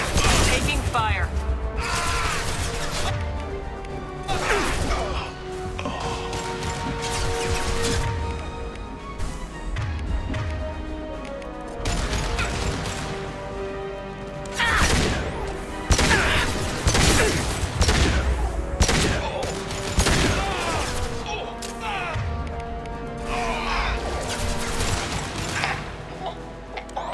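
Repeated bursts of gunfire and impacts in Mass Effect 2 combat, loud and dense across the whole stretch with booming hits and crashes, while a voice talks over the battle.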